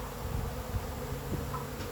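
A continuous insect buzz, like bees, hums steadily and close throughout, with no voices.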